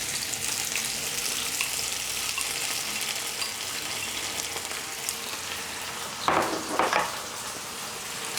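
Beef stir-frying in a hot wok over high heat for a pepper steak dish, giving a steady close sizzle throughout, with two brief louder bursts of spatter and scraping near the end.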